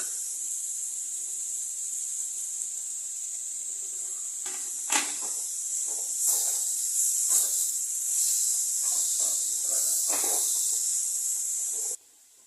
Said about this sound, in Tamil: இதில் வந்து புதினா, கொத்தமல்லி நல்லா போட்டு வதக்கிக்கலாம்.